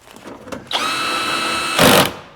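A power driver tightens small screws into the window motor of a 1999-2004 Land Rover Discovery II, giving a short whirring run with a faint tick at the start and a brief louder burst as the screw seats. The sound is close and there is no talking.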